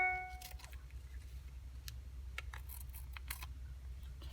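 Scissors trim paper for a handmade card flip, producing a series of faint, crisp snips at irregular intervals over a low steady room hum.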